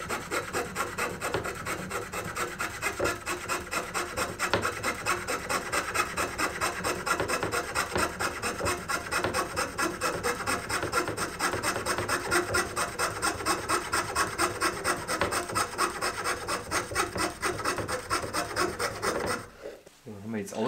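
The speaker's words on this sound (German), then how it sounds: "Ich habe mich jetzt hier für die Laubsäge entschieden" A hand fretsaw rasps through wood in a workshop with a fast, even back-and-forth stroke, close and continuous for about twenty seconds before stopping abruptly.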